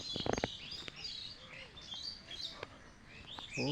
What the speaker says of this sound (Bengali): ঘুঘু ডাকতেছে পিছনে।